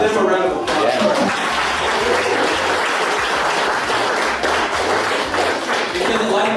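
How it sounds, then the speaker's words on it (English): Audience applause at a poetry reading, loud close clapping from a room of listeners that runs throughout, with voices and cheers mixed in under the claps. "let's give them a round of applause"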